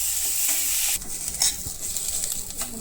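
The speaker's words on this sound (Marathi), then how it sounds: "त्यामध्ये आपण कांदा परतो कांदा पण गुलाबी वगैरे परतून घ्यायचा" Chopped onion frying in hot oil in a pan while being stirred, a bright steady sizzle that shifts as the pieces are moved around, close and clear with no talking.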